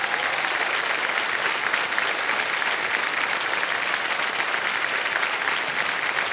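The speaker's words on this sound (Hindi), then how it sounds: "यस ताली बज जाए आरती जी के लिए" A studio audience on a TV quiz show gives a steady, dense round of applause for a contestant, continuous and even throughout with no talk over it.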